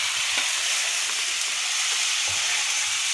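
Vegetable curry tempering (phodni) sizzles steadily in a pan, a loud, continuous close frying hiss with a few small stirring knocks and no talk.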